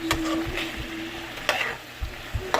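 Shrimps frying in a pan over very low heat, with a soft continuous sizzle broken by a few stirring scrapes and light clanks, and a brief faint tone near the start.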